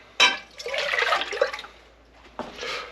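Water splashing and running while a pot is rinsed out at a sink, a couple of close bursts of gushing water with a brief quieter gap between them.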